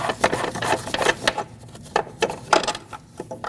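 Rapid ratcheting clicks from a socket ratchet loosening a front upper control arm bolt on a 2006-2015 Lexus IS250, coming in quick bursts with short pauses between strokes, close and fairly loud, with no talking.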